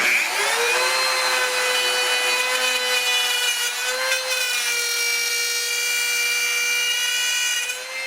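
A router cuts spline grooves into a guitar headstock guided by a plexiglass template, a loud steady high whine with rubbing, cutting texture and slight pitch shifts as it moves through the wood.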